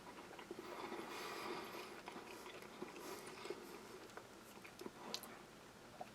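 Close, quiet biting and chewing of a filled tortilla with a tomato-based beef filling from a Norwegian Army arctic field ration, with soft repeated moist crunches and small clicks at an irregular rhythm.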